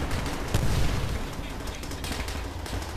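Gunfire in the World War II shooter Call of Duty 5, with repeated blasts from a shotgun and other weapons crackling over a busy battlefield, one heavier boom early on, and faint voices mixed underneath.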